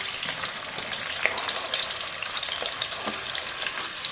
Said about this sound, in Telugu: ఉల్లిపాయలు వేసుకుందాం, ఎందుకంటే పేలుతుంది మరి. నూనె బాగా మరిగింది కదా.